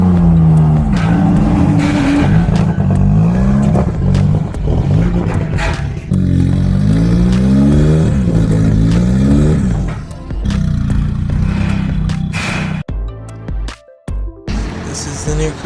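A car engine revs hard in repeated surges, rising and falling pitch as the car drifts, loud and close, with voices talking over parts of it.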